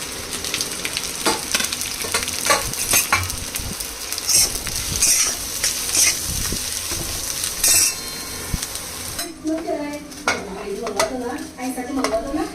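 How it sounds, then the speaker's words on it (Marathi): Onion fries in oil in an iron wok with a steady sizzle, while a metal spoon scrapes and clinks against the pan in repeated stirring strokes; the frying quiets toward the end. "मी लोखंडाची कढई त्याच्यात तेल टाकून घेतलेलं आहे सर्वप्रथम आपण आता कांदा भाजून घेऊया"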